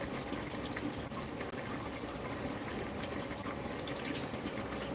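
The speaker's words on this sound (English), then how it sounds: "Water continues to drain." Water drains steadily out of an aquarium barrel with the heaters and filters running, a continuous close rushing gush with no pauses and no voices.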